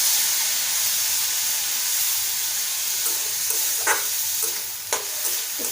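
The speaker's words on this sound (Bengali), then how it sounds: "আঁচটা কমিয়ে এটাকে ভাজবো, যেমন ভাজা করে ভাজবো।" Salted, turmeric-coated banana stem frying on low heat in a generous amount of oil, a steady close sizzle and hiss throughout with a few brief stirring clicks, no talking.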